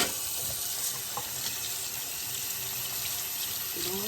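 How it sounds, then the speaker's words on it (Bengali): Running tap water splashing over a stone grinding slab as it is rinsed in a home kitchen, a steady close hiss of flowing water with faint knocks and scrapes. "পাটাটা একটু ধুয়ে নিই"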